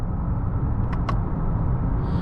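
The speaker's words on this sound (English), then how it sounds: "We're gonna test out the paddle shifters here. I'm gonna downshift." Inside a 2020 Honda Accord 2.0T on the road, a steady engine and road rumble carries through the cabin, with two brief clicks of the paddle shifters as it downshifts.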